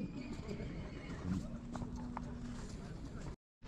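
A stallion at the Kara-Balta livestock market neighs once amid the market's steady crowd noise, with people talking nearby throughout.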